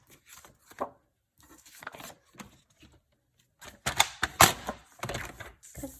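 A greeting card is cut up with scissors, giving a series of sharp snipping clicks, sparse at first and then quicker and louder toward the end, with no talking.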